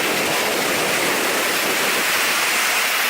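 Steady, full roar of a waterfall near Reynisfjara in Iceland, heard up close from behind the falling water, a dense continuous rush with no gaps or voices.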